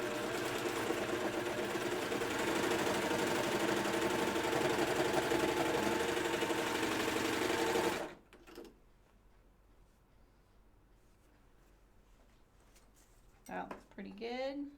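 A sewing machine stitches a thick pad of fabric, loud, steady and continuous whirring for about eight seconds, then stops abruptly, leaving quiet handling noises and a brief voice near the end.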